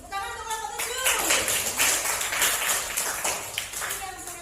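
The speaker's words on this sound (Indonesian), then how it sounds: "Tepuk tangan untuk kelompok 7." Applause for a student group in an Indonesian classroom: many hands clapping together, a dense, steady patter of claps lasting several seconds, with a teacher's voice briefly heard at the start and end.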